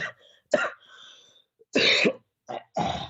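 Several harsh coughs and throat-clearing bursts come in short clusters separated by brief pauses, close and fairly loud.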